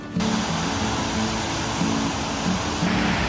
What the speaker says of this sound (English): I can hear the next waterfall. It's called Double Falls